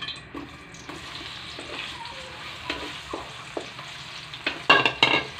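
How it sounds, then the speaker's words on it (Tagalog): Banana bites deep frying in hot oil, a low steady bubbling hiss with scattered clicks and a few brighter crackling bursts near the end, close and with no talk. "maintay yung mantika. Ilagay na natin itong banana bite."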